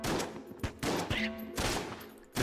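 AK assault rifle fire in the video game Enter the Gungeon, several quick bursts of close, loud gunfire separated by short gaps, with brief tonal game sounds between them.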